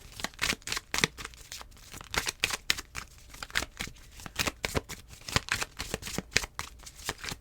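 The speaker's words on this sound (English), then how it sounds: "Just mixed up all the cards." A deck of cards shuffled up close, in quick rhythmic riffles and flicks of the cards that go on steadily with no voices.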